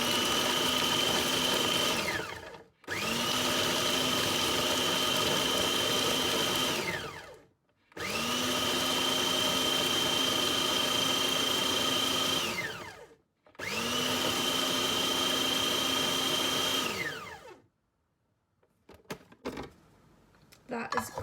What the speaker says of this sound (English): I'm going to just whisk that up into a powder